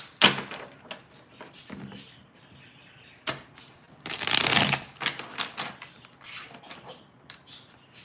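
Tarot cards being shuffled and pulled from a deck, heard as a run of close, soft papery riffles and slides in uneven bursts, with one louder, denser flurry near the middle.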